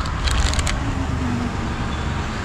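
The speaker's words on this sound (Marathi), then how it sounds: "आज गाड्या खूपच आहेत त्या रस्त्याला." Busy road traffic on the Tarkarli–Devbag road, with many vehicles passing in a steady, close rumble and brief crackling bursts near the start.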